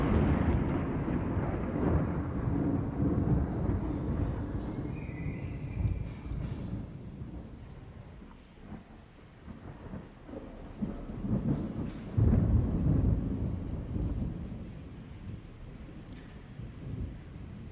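Heavy thunder rumbles and rolls through a downpour in Houston, with deep booming swells rising and fading over a constant hiss of rain.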